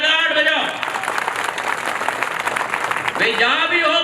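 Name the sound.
audience applause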